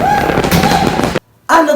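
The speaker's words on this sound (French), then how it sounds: "Il faut faire attention quand on utilise les feux d'artifice quand même" Fireworks bursting as a sound effect, a dense run of loud crackling explosions that cuts off abruptly, goes silent briefly, then resumes.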